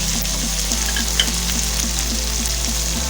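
Onion masala with salt and turmeric frying in a pan, a loud, continuous close sizzle with faint rhythmic stirring scrapes and one small clink.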